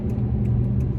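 A truck with a 4.6 engine accelerates hard, a loud, steady low rumble of engine and road noise heard from inside the cab, with no voices.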